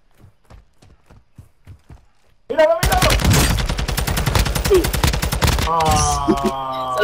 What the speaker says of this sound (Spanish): escucho disparos